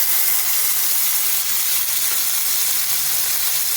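A ground paste of cashew, poppy seed and mustard hits a hot pan with asafoetida while cooking eggplant, giving a loud, steady, unbroken sizzle with no talking.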